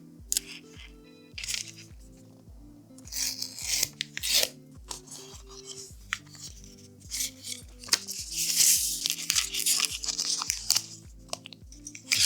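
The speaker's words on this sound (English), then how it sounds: "Let's unbox it together" Apple AirPods 4 packaging is opened by hand with crinkling, tearing and crunchy cardboard and plastic noises in irregular bursts, close up, over steady soft background music.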